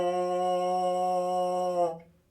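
A single sustained trombone note, concert F, full and steady, held for nearly two seconds before stopping and fading into a short room echo.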